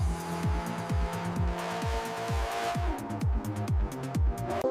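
A 2026 Pagani Utopia Roadster with a V12 engine overtaking, its engine note rising and dropping in a rapid series of gear shifts, loud and close throughout with no talk.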